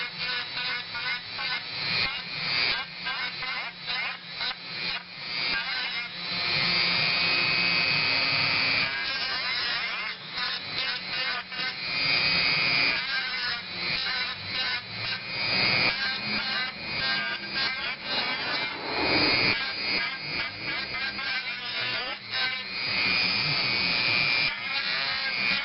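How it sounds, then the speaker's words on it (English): A Dremel rotary tool grinds and cuts the tab on a 9005/9006 headlight bulb for a Corvette, a high buzzing whine that rises and falls under load in repeated passes. Someone talks at times over the work. "I've got my Dremel here"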